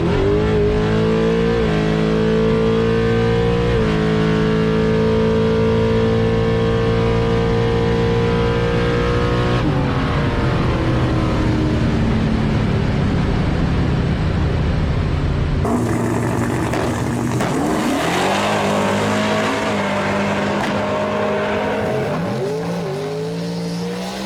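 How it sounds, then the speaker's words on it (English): A nitrous-fed drag car with a 9-inch rear end launches hard, its engine roaring loud and close with a wavering, bucking pitch that stutters and surges, then a tone change partway through as the run continues. "when I sprayed it with the 9-inch, it kind of did a little, bucking action, which I'll show you right here in this clip"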